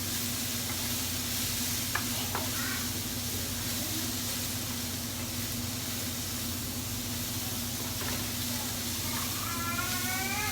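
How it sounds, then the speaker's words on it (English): Frozen vegetables sizzle steadily in a drying pan while being seasoned, a constant broadband hiss with a low hum beneath and a few faint clicks of stirring, no talking. "Okay, so I'm starting to season my frozen veggies and my pan is starting to dry out."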